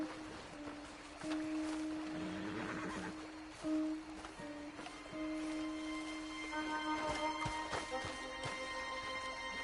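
A horse in Red Dead Redemption 2 neighs and whinnies, a loud tonal call that rises and falls over several seconds, with faint hoof and ambient sounds around it.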